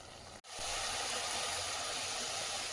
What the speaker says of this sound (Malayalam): ആ പയറിപ്പോൾ നല്ലപോലെ തിളച്ചുകൊണ്ടിരിക്കുകയാണ്.